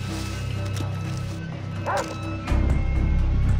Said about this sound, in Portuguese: Cadê aquele cachorro desgraçado que me matou antes?